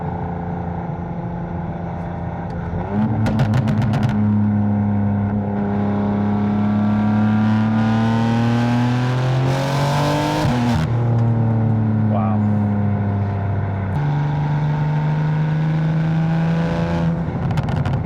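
A BMW M4 Competition with an FI exhaust, catless and on an E40 tune, revs hard close by. Rising and falling engine notes sweep up and down through several pulls, with sharp crackles between them.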